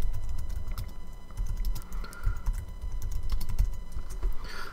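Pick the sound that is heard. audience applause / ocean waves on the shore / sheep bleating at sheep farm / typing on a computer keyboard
typing on a computer keyboard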